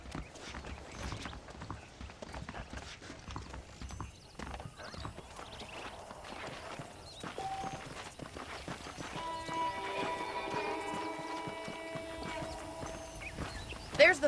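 Horses clip-clop in the Western video game Red Dead Redemption, with hoofbeats continuing throughout at moderate volume, a neigh or whinny, and mixed game ambience and music.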